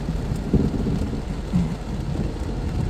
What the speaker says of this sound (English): this is a nasty lightning storm